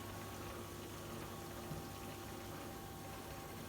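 Water circulates through a reef tank sump, a plain tub holding coral chunks, with a faint, steady pump hum and soft trickling throughout.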